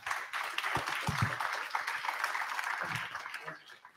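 Audience applause and clapping at a business breakfast conference on retail media, a dense, steady patter lasting several seconds that fades toward the end.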